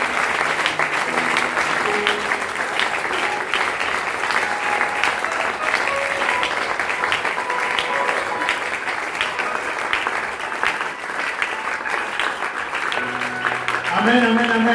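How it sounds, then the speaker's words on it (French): A church congregation at a Holy Communion celebration applauds to acclaim the Lord, with sustained, dense clapping that fills the whole stretch and faint tones and voices mixed underneath. "Est-ce que nous pouvons acclamer pour le Seigneur?"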